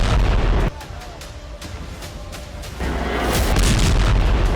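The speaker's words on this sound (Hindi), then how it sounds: "उत्तरी गाजा से दक्षिणी गाजा तक बीती रात इजरायली सेना की भीषण बमबारी ने कोहराम मचा दिया।" Heavy bombing explosions in Gaza: loud booming blasts with a deep rumbling tail, a strong hit at the start and another swelling near the end, close and overwhelming.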